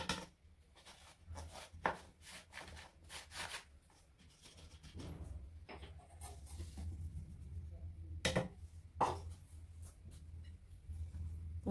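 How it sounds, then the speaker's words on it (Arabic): A spatula gently folding flour into whipped egg batter for an apple and nut tart, soft scraping and rubbing strokes in uneven bursts against a bowl, faint and close in a quiet kitchen. "انا كنحرك غير بشويه بشويه باش ما نهبطش"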